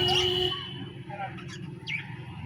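Birds calling through the day, with a few short, high chirps standing out over a steady low background murmur; the calls are fairly faint and scattered rather than continuous.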